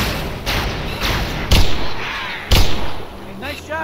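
Gunfire from the first-person shooter game Halo SPV3.2, a few heavy, booming shots at roughly one-second intervals, loud and close, over a rumbling game soundscape with some speech mixed in.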